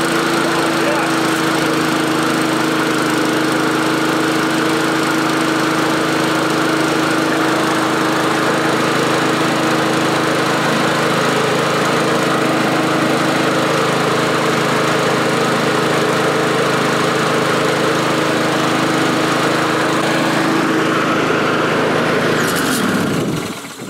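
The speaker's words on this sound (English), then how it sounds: "Let's give it a start and see what happens." A Craftsman 21-inch lawn mower fitted with a Honda engine, set on full choke in a shop, runs loud and steady close by for over twenty seconds with a constant droning hum before cutting off abruptly.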